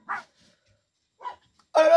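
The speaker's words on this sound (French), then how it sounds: "Oh là là, les chiens là." Dogs bark in three short separate bursts, the first and last loud and near, the middle one softer, with silence between them.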